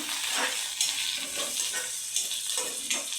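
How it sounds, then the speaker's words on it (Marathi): Ground garlic cloves and green chilies being sautéed in a pan, with a steady close sizzle, bursts of frying crackle and occasional stirring scrapes, without any talking. "आणि हे चांगलं परतून घ्यायचं"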